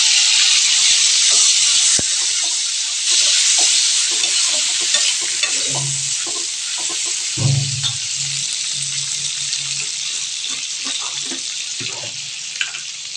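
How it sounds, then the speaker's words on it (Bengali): Freshly washed vegetables hitting a hot pan, a loud hissing sizzle with stirring clatter, fading slowly into a steady fry with occasional low knocks, no talking. "তো দেখো ভালো মতন সবজিগুলোকে ধুয়ে এবার দিয়ে দেবো।"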